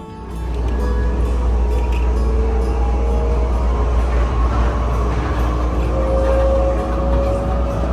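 Steady loud rumble and hum of an airport inter-terminal shuttle train in motion, heard from inside the carriage, a continuous low drone with faint mechanical whine rising toward the end.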